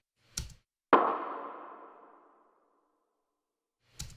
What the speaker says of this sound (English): A rim shot gets introduced.